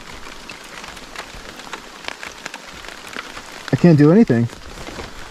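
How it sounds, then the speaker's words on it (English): Rain patters on a navigation phone mounted on a motorcycle during a trail ride toward Colorado. A steady, close hiss of drops runs throughout, and someone speaks briefly near the end. "The rain hitting my phone, my navigation phone"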